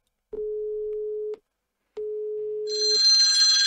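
A phone rings twice in long steady tones with a pause between, then a brighter electronic mobile ringing tone starts near the end, from a call placed through an Asterisk VoIP phone system; no talking.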